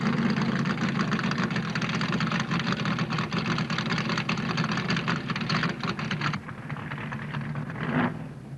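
A 1971 NASCAR Ford stock car engine rumbles loudly and steadily during a pit stop at Riverside, a continuous heavy drone that drops in level toward the end before a brief swell.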